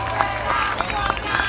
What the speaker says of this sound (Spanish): Más fuertes aplausos para los pescadores y sus familias.